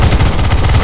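Rapid automatic gunfire from CS:GO Zombie Escape, with the team shooting at boxes on the ze_best_korea_v1 map; a loud, steady burst of close, rhythmic shots fills the whole moment with no talk.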